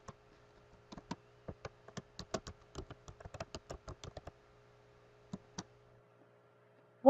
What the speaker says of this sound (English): then enter your BW login credentials.